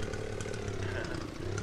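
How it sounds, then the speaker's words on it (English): A small lawnmower engine in the farming game Farmer's Dynasty drones steadily and close, a continuous buzzing motor hum throughout. "I got a little lawnmower."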